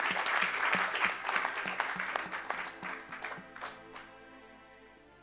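Church congregation applauding and acclaiming Jesus during a healing service: sustained dense clapping, strongest early and gradually thinning out toward the end, with faint voices mixed in.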